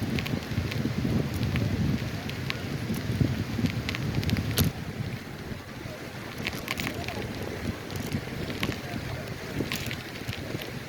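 Steady wind rushes and buffets past the microphone while cycling along Fort Myers Beach, Florida, a constant broadband roar with occasional gusts and faint clicks.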